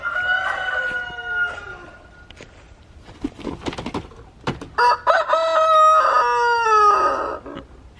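Backyard chickens in a chicken yard, with a rooster crowing loudly at the start and again near the end, and clucking hens and scattered pecking or scratching noises in between, all close and without talk.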